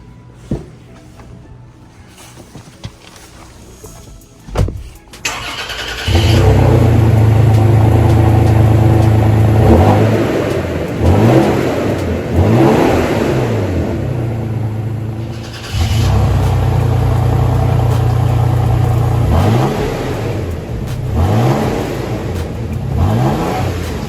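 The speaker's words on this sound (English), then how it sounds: "I wanted to do the first cold start of the day." 2021 Toyota Tacoma TRD Sport started cold for the first time that day, a clunk and crank, then the engine catching loudly and settling into a high idle with repeated revs that swell and fall.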